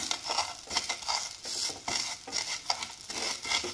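Vermicelli roasting in ghee in a pan, stirred with a spoon: a soft, steady sizzle with repeated scraping and clinking strokes in an even rhythm, close and fairly quiet.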